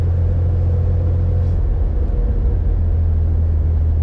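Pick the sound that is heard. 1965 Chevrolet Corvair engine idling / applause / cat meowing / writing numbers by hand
1965 Chevrolet Corvair engine idling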